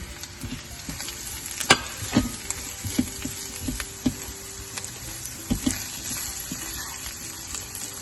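Spices and a bay leaf sautéing in a pan give a soft, even sizzle with a series of distinct stirring knocks and scrapes spaced through the clip, fairly quiet and without talk.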